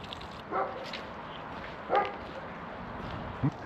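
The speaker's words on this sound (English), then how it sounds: "Oh, the dogs have heard me coming." A few short dog barks sound at a distance, spaced apart, with a small yip near the end over a quiet outdoor background.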